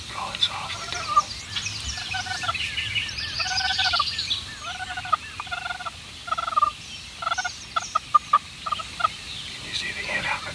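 Wild turkey gobbling in a field, a series of loud, warbling gobbles repeated across the stretch among hens, with softer bird calls and quiet outdoor ambience between bursts.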